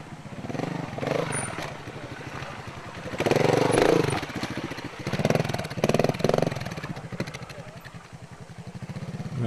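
A trials motorcycle engine revs in uneven bursts as the rider works on and off the clutch, loud and close, rising and falling over a low running drone.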